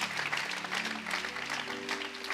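A church congregation applauding together in acclaim of the Lord, a dense steady clapping close by that runs throughout with a faint sustained musical tone underneath.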